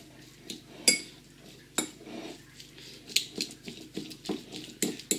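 Pork mince being mixed by hand with mustard powder, sage, rosemary, herbs, salt and pepper in a bowl, giving soft squelching stirs punctuated by sharp clinks of utensils against dishes at close range.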